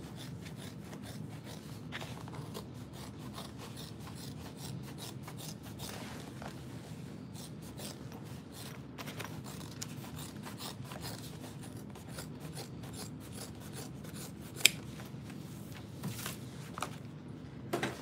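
Interfacing fabric for a backpack is trimmed with scissors in a run of quiet, close, repeated snips and rasping cuts. Soft rustling of material continues between the cuts, and there is no talking.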